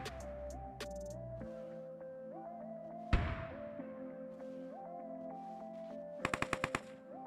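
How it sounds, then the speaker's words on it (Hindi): Bursts of rapid UMP submachine-gun fire in a shooter video game, with short rattling volleys at the start, a heavy blast midway, and a quick rhythmic burst near the end over a steady in-game hum. "अब मुझे यूएमपी की फायर आती है"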